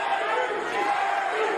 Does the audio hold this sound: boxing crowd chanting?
yes